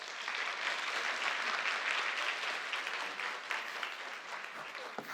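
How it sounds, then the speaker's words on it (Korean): Sustained audience applause at a lecture hall after a Nobel Prize explanatory talk, steady dense clapping from a large crowd throughout, fairly loud and even with no one speaking over it. "좋은 강연해 주신 신희철 교수님께 다시 한번 큰 박수 부탁드립니다"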